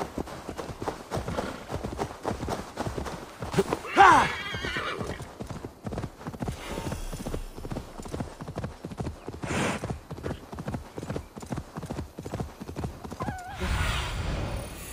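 Horse hooves clip-clop steadily throughout in Assassin's Creed Valhalla gameplay, with a loud whinny near the four-second mark and another neigh close to the end, mostly alone with little talk.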